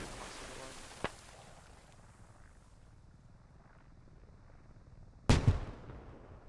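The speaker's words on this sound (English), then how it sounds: "Sounded like another frag going out, so I'm waiting for an explosion." A frag grenade detonates in the military shooter game Squad, a sharp loud blast late in the clip after a quieter, brief crack earlier, over low background rumble.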